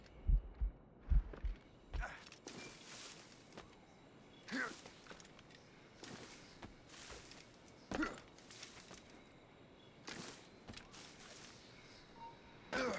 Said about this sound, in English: Keeps my heart beating.